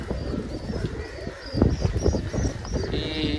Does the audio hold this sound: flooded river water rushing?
no